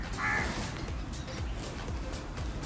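Crows cawing outdoors during a poetry recording session, a few harsh calls standing out over steady broadband background noise, moderately close and fairly loud.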